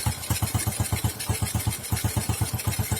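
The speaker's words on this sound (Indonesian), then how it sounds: "Ini suaranya kalau digas kayak ada nembak bro, kayak spread gitu ya." A motorcycle with a rusted, holed exhaust runs close up, its engine throbbing in a rapid, uneven pulse with sharp popping beats as it is revved, no talking.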